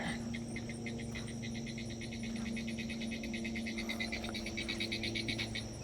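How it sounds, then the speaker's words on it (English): Frogs calling at night in Florida ranch swampland, a rapid pulsing trill repeating steadily over a chorus of crickets and insects, moderately near with no talk. "That sound is a frog."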